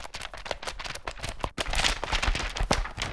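Dry book percussion with no effects, played as a loose run of close, sharp slaps and thumps, some ringing slightly, spaced irregularly over a few seconds.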